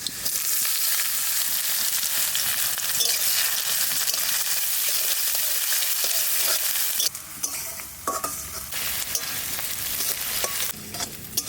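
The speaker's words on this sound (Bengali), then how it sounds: "পেঁয়াজ আর কাঁচা লঙ্কা একসঙ্গে দিয়ে দিচ্ছি।" Garlic, onion and green chilli frying and being stirred in a pan, a steady loud sizzle that shifts in texture partway through as the ingredients are added and moved around.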